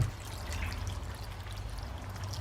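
Water poured into a slow cooker of lasagne, a continuous soft trickling splash over a low background hum.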